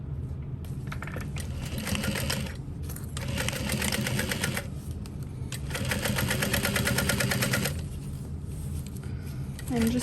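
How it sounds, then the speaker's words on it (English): A sewing machine stitches around the outer edge of a knapsack pocket in bursts of rapid, rattling whir, stopping briefly between runs as the fabric is turned, close and moderately loud. "we're just going to sew around the outer edge of that pocket"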